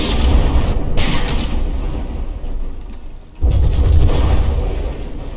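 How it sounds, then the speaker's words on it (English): High explosive secondary shells bursting in the From the Depths battleship game: deep booming explosions rolling continuously, with a fresh loud blast landing after a short dip midway. "there's a bunch of shells heading this way. That one fell a little bit short. These high explosive secondaries."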